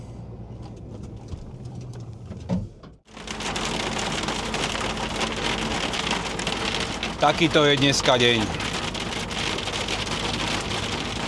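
Heavy rain drums steadily on a truck cab in Austria, a dense loud wash with windshield wiper-like squeaks midway, while someone speaks briefly at the start.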